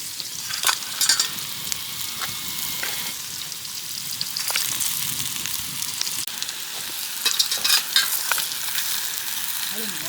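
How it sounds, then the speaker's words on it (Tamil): Fish pieces deep-frying in hot oil for a Kerala-style fish biryani in a village kitchen, with a steady dense sizzle and crackle and brief bursts of louder spattering and stirring throughout. "மீன் நல்லா பொரிஞ்சிட்டு எடுத்து மாற்றிக்கலாம் வேறு பாத்திரத்துக்கு."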